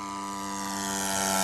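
A remote-controlled flying lawnmower with a propeller drones steadily with a tonal engine whine, growing gradually louder over a brief moment with no voices.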